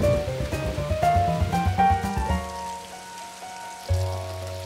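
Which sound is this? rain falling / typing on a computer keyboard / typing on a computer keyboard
rain falling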